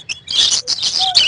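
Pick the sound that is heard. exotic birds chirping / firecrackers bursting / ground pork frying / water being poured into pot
exotic birds chirping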